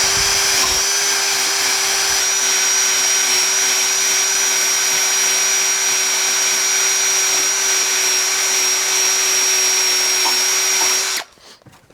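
A Fortis eraser wheel on a power drill spins at high speed while rubbing a decal off, giving a loud, constant whine with a steady tone that cuts off abruptly at the end.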